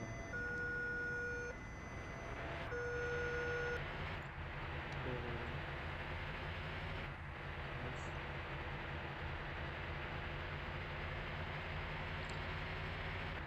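A train in the Bus Simulator Indonesia video game rumbles past as a steady low drone with tonal horn-like notes at the start, continuous and moderately loud, with no talk.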